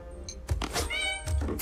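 A cat in the animated film Big Hero 6 gives a brief meow amid soundtrack thumps and other movie sounds, loud and busy.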